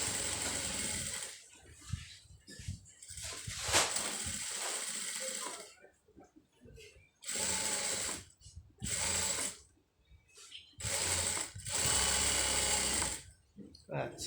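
A sewing machine runs in several short and longer bursts with pauses between them, laying a pressed seam on a round maxi dress. The mechanical whirring and clatter is close and fairly loud.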